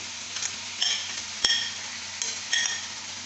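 Chicken being stirred in a karahi, a steady hiss of frying under a few sharp metallic scrapes and clinks of the spoon against the pan, close and alone with no talking.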